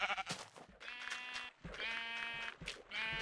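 Several Minecraft sheep bleat in quick succession, short nasal calls overlapping one another close by, with no talking over them.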